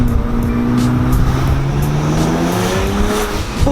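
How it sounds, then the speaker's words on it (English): A tuned BMW 335i twin turbo accelerating hard on the road, heard from inside the car as a loud, sustained engine roar with rising harmonics that climb steadily through the pull. "me and Danny are in the 335i twin turbo. We're testing out the tune right now"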